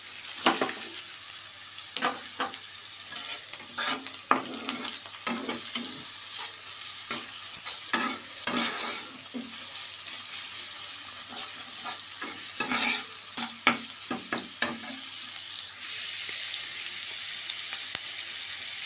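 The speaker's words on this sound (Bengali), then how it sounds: "পেঁয়াজটা একটু ভাজা ভাজা হবে" Onion, green chili and curry leaves fry in a pan for a sago snack, a steady, quiet sizzle broken by repeated scraping taps of a spatula as the mix is stirred.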